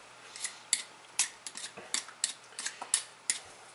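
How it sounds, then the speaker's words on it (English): A small vegetable peeler scrapes around raw beets in a series of quick, crisp strokes, about a dozen sharp scraping ticks in an irregular rhythm, close by and fairly quiet. "just use a little simple peeler. So, just go all the way around"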